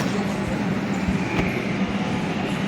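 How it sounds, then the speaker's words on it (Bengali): A metro train rumbles into a station with a loud, steady roar and faint clacks, a murmur of voices mixed in. "এই যে মেট্রো ট্রেন চলে এসেছে"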